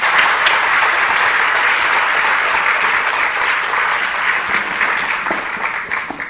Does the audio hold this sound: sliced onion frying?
no